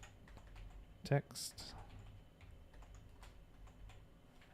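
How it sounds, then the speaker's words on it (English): Quick clicking keystrokes on a computer keyboard, close and soft, with one brief louder burst of typing and a short spoken word. "I'm definitely getting tired of having a hard time typing."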